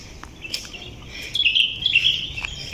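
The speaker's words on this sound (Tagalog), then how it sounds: "Kalapati guys, ang daming kalapati." Birds calling near a crowded spot of pigeons at a town fiesta, with bright, chirpy calls repeating and growing busier over a few seconds, fairly faint and with no talk.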